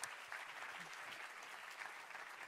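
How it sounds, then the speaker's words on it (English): Audience applause fills a church sanctuary at the start of a sermon, a steady, even wash of many hands clapping at moderate distance with a little crowd noise mixed in. "y'all can clap it up if you want to get excited for the word"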